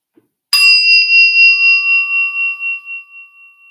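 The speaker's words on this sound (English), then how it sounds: "we listen to the commencement bell" A single meditation bell is struck once at the start of a guided meditation, ringing out clear and close with steady tones that slowly fade over several seconds.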